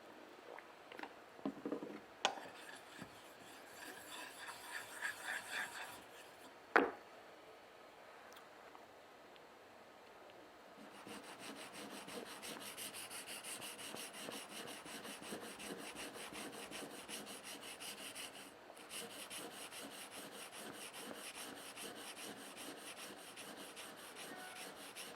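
A steel blade is worked over diamond sharpening stones with a slurry of mud. Faint scraping comes first, broken by a sharp knock, then a long, steady, even rasping stroke rhythm up close with no talking.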